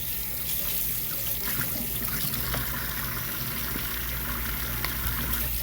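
Steady running water from a kitchen tap flows over a knife being washed, a continuous moderate splash with faint clinks.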